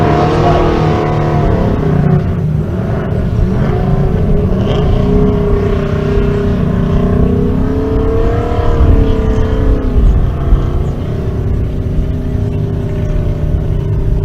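A Chevrolet S10 race car pulls off the racetrack under its own power at a drag-racing event in Pueblo, Colorado, its engine droning steadily and loudly with rising revs amid crowd and commentary noise.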